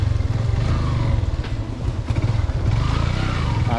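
A motorcycle pulls away on a rural hillside road during the monsoon rice-planting season, its engine revving and rumbling steadily and close by, with a clattering edge throughout and no talking.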